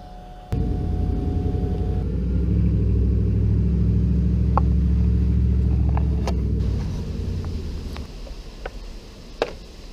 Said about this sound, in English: Oh, I hear my fan kicking on. Sounds like there's something stuck in it.